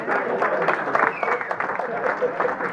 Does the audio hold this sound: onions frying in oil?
no